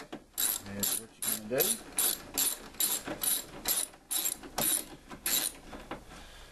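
Ratchet wrench loosening bolts on a car's mass air flow sensor, a rapid series of about a dozen crisp close clicking ratchet strokes in even rhythm, with someone briefly talking.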